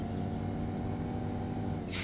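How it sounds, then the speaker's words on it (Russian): In Need for Speed: Porsche Unleashed, a Porsche engine hums at a steady, constant pitch, even and unbroken, with a short bright noise right at the end. "Ну, мне нравится звук мотора, конечно, вот у этого Porsche."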